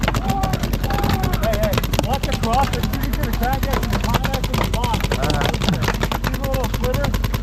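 Airsoft or paintball guns firing during a large battle game at the Oregon supergame, with dense rapid shots and bursts continuing nonstop while players shout and talk nearby.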